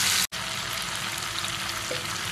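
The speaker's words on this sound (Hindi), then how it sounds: "हमने इसको तेज़ आंच से ही गोल्डन फ्राई करना है" Chicken pieces sizzle in hot oil over high heat, frying golden for a tomato chicken curry, a loud, dense, continuous crackle broken by one brief instant of silence near the start.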